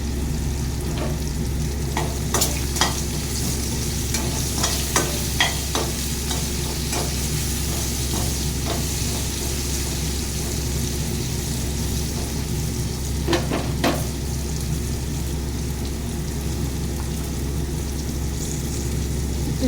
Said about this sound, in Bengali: এটা ভালো করে ভেজে নিচ্ছি।